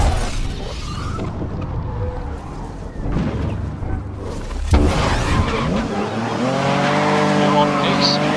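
Race cars running a lap on a circuit in the video game Grid (2019), engines droning steadily with a brief tyre squeal and a thump midway, while a voice talks over the racing.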